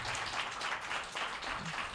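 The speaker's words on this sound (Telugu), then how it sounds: "ఇప్పుడు కొట్టండి గట్టిగా చప్పట్లు" A church congregation claps loudly together during a sermon, producing a dense, steady patter of many hands that carries on without a break.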